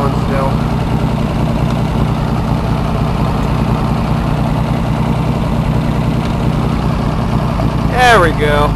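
A new log skidding machine's engine runs steadily and loudly at close range, a constant mechanical rumble throughout, with a brief squeal near the end.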